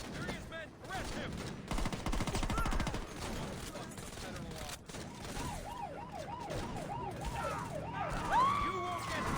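Gunfire in the Saints Row video game: dense bursts of shots mixed with wailing police sirens and game sound, loud and continuous, with voices shouting over the action.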